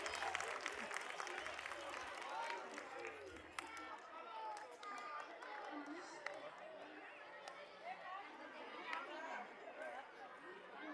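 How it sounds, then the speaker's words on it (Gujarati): Audience clapping for students at a school award ceremony, a continuous patter of many hands mixed with crowd chatter and voices throughout. "તાળીઓનો ગડગડાટ ચાલુ રહેવો જોઈએ"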